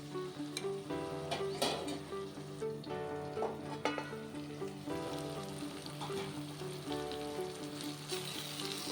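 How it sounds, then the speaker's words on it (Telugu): Onion and tomato frying in oil for a drumstick curry, a steady close sizzle with occasional stirring scrapes throughout. "టమాటా ఉల్లిపాయ బాగా ఫ్రై అయిపోయింది."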